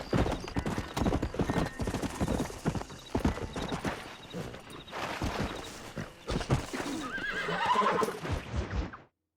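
Horses in Red Dead Redemption trot with dense, continuous hoofbeats and let out a neigh near the end, loud and close throughout.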